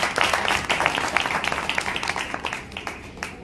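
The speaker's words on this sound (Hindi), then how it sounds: "रोटरी क्लब और सभी सहयोग करने वाले सभी लोगों के लिए ताली बजाकर उनका स्वागत करते हैं" An audience claps to welcome Rotary Club members and other supporters at a community event, dense applause fading over a few seconds.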